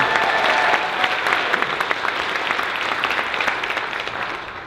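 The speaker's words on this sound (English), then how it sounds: "Let's clap it up for Sue Lin," Audience at a citywide teach-in about saving Chinatown applauds a Chinatown business owner, a dense, steady wash of clapping that fills the whole stretch and tapers slightly at the end.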